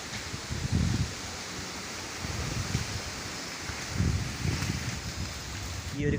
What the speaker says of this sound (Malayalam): അത്യാവശ്യം നല്ല കാറ്റും മഴയും വരുന്നുണ്ട്